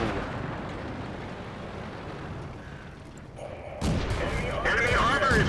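A World of Tanks tank cannon fires a shot that strikes enemy armor, a sudden loud burst that cuts in and then trails into rumbling, crackling game effects.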